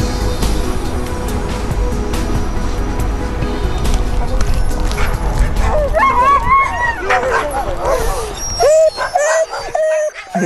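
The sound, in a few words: sled huskies barking in harness before departure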